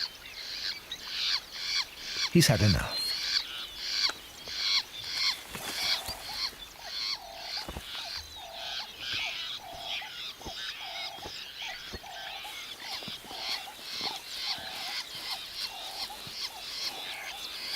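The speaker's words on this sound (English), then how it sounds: "That's why so many birds are squawking around here." A group of fiscal shrikes calls around their nest, with harsh squawks and croaking notes repeating steadily in rapid bursts throughout. One loud broadband squawk stands out early on, and a brief voice is heard once.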